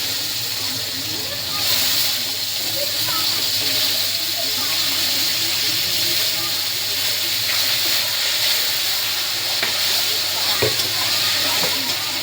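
Whole chopped onion fries in hot oil with tempered spices and two bay leaves, giving a loud continuous sizzle with bubbling crackle and occasional stirring, with a voice speaking at times.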